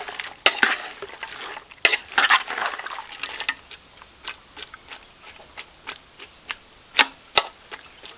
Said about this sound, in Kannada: ಈ ಹುಳಿ ಮಜ್ಜಿಗೆನ ಈ ಹೆಚ್ಚಿ ತೊಂಡೆಕಾಯಿಗೆ ಮಿಕ್ಸ್ ಮಾಡ್ತೀನಿ